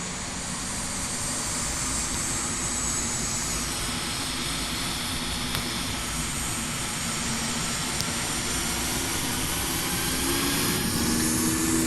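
Airliner jet engines in the Infinite Flight game drone at a steady, even roar during the takeoff roll, a continuous broad rush with no talk.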